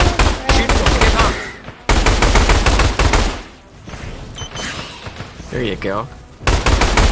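Gunfire in the co-op dinosaur survival shooter Orion: Dino Horde, sharp bursts of shots mixed with game noise and several people talking over it, with a quieter stretch in the middle before the loud clatter returns.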